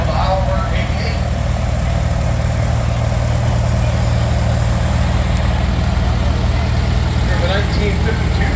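A 1958 Oliver 880 tractor engine runs at a steam power show in Sycamore, Illinois, a loud steady low throb that continues without a break, with a person speaking faintly in the background.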